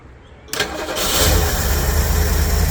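A 1969 Lincoln Continental engine is cranked with the key after a quiet moment: a sudden starter whir and churning crank rising into a loud, steady low rumble, close up.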